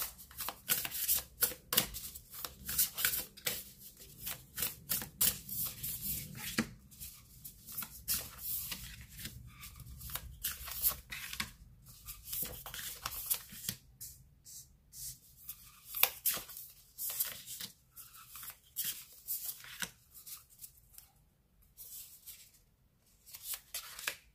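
Oracle cards are shuffled by hand for a card reading, giving repeated close riffling and sliding bursts with short pauses between them, fairly soft and alone with no talk.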